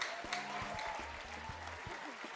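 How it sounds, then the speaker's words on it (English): An audience at a talk show claps as a faint, continuous patter, mixed with low voices and murmuring. "Put your hands together for them."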